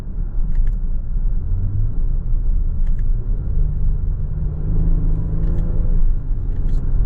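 A 2022 Nissan Pathfinder Platinum driving with gears changed manually, a loud steady road and engine rumble inside the cabin as the engine tone rises and drops between shifts, with a few faint clicks.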